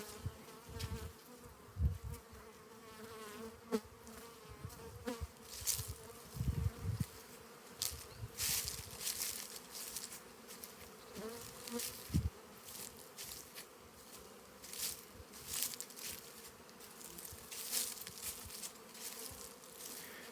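Honeybees buzz around wooden beehives during a February winter check, a steady close hum with individual bees droning louder as they fly past.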